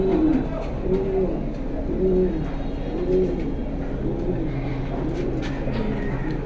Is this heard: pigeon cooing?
yes